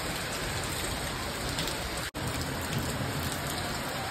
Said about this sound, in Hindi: अच्छा हुआ बारिश हुई